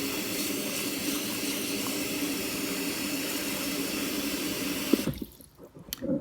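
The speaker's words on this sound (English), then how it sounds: "I'm going to put about 6 cups of water in here." Water pours steadily from a tap into a pot for several seconds, a full rushing stream that cuts off abruptly near the end.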